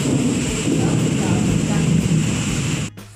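A thunderstorm with rain and wind roars steadily outdoors, with a dense broadband rush that holds loud and even before it suddenly cuts off near the end.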